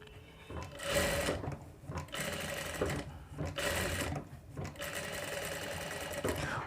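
Short bursts of a sewing machine stitching a boat neck blouse close along the buckram edge, separated by brief pauses, with the motor's rattling whir loud and near.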